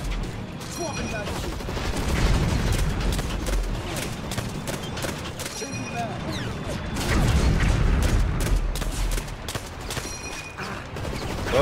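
Video game combat with enemies and a tank, sustained overlapping gunfire and bursts forming a loud, continuous battle din with heavier thumps in waves, a voice speaking over the action.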